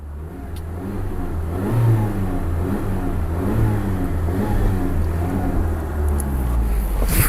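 A 2022 Maruti Suzuki Dzire ZXI CNG car engine revs up and holds a rising, throaty drone close by, pulsing slightly as the throttle is worked.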